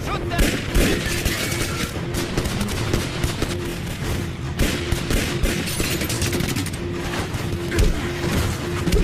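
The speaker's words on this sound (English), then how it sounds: "Stop it! Shoot them!" Gunfire in a Hollywood crime action movie scene: dense, loud bursts of shots rattle on continuously throughout, with no pause or quiet gap.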